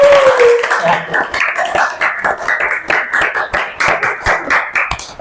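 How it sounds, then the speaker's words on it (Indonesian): Several people clap together at a podcast taping, welcoming guests in a run of sharp, fairly close hand claps that settle into a quick rhythm, loud and alone after a brief faint tone at the start. "Tepuk tangan dulu untuk teman-teman saya."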